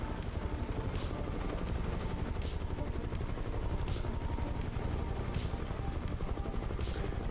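A Huey helicopter flies in Microsoft Flight Simulator 2020, its rotor making a steady, loud, dense thumping drone with an even rhythm that carries on without a break.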